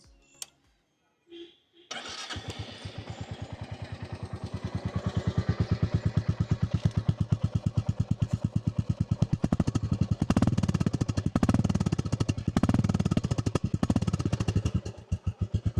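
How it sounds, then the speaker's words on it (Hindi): Royal Enfield Classic 350 single-cylinder motorcycle starting up, then a steady rapid thumping exhaust note idling close by, briefly revved louder near the end, with no talk over it. "तो क्लासिक 350 का जो एग्जॉस्ट नोट है, मैं आपको एक बार वो एग्जॉस्ट नोट फील करवाता हूँ"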